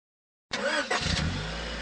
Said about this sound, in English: Hey, check out my new car.